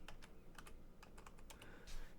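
Fingers type on a computer keyboard, a quick irregular run of soft clicks and taps, close and quiet.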